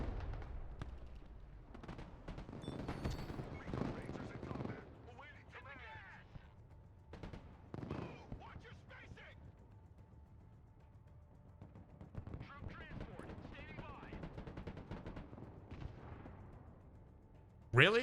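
A .50 cal machine gun firing in the Broken Arrow military strategy game, sharp bursts of shots spread through quieter stretches, mixed with battle noise.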